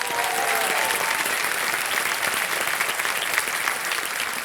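A studio audience at a TV quiz show applauds steadily and loudly throughout, welcoming a contestant from Himachal Pradesh, with no one speaking over it.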